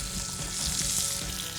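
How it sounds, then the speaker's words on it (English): Marinated lobster halves laid flesh side down on a hot barbecue grill sizzle and crackle steadily, a dense continuous hiss with small pops, no voices over it. "Flesh side down first, and the grill, you can just hear that really sizzling away."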